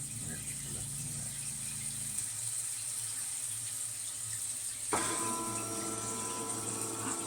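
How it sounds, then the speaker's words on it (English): A steady mechanical hum of a small boat shower drain pump runs throughout with water flowing, shifting to a higher whine partway through. "But I also want to hear that pump work."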